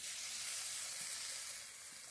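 Spice masala frying in a pan with fried bakuli fish, a faint, even hiss of sizzling oil that runs steadily and fades slightly at the close.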